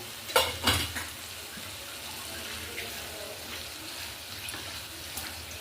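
A shrimp and ash gourd curry is stirred in a pan, giving a couple of sharp scraping clacks near the start and a few lighter taps later over a soft, faint, watery simmer.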